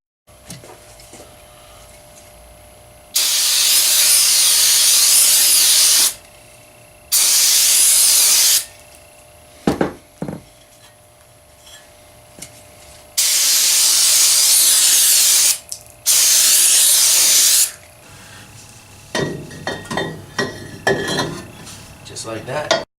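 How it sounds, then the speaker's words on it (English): Brake cleaner is sprayed onto a new Toyota 4Runner brake rotor in four loud, hissing bursts of varying length, separated by clanks and clicks of the can and metal parts. "spray the rear with brake clean, also the front"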